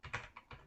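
Quick keystrokes on a computer keyboard while entering text into a web browser, a few close, light taps in an uneven rhythm with no talking.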